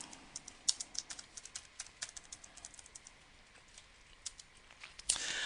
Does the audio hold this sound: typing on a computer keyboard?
yes